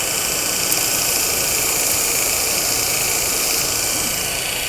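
A belt grinder's contact wheel cuts a groove into an axe head on a multitool grinder, giving a steady, continuous mechanical whir that holds at an even loud level throughout with no voices.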